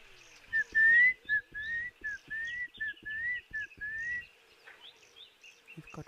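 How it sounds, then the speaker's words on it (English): A series of clear, repeated whistling guinea fowl calls in quick rhythm, fairly close, followed by quieter noisy chatter and faint background sounds. "There's our guinea fowl."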